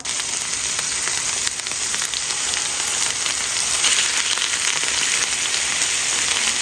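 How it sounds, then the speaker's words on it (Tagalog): Chicken steak pieces fry in hot oil over high heat, giving a steady, dense sizzle and crackle close up that continues evenly throughout with no talking. "Medyo piprituhin muna natin yung ating pinakamanok."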